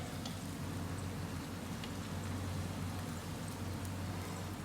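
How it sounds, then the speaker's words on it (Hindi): Meatball kachori snacks frying in hot oil, giving a steady, close, dense sizzle with fine crackling pops throughout and no break. "हमारे स्नैक्स बड़े अच्छे तरीके से फ्राई हो रहे हैं"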